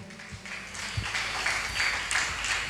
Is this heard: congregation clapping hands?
yes